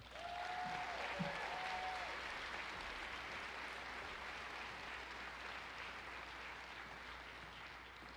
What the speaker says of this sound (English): Please give a round of applause for our valedictorian, Ms. Natalie Sotelo.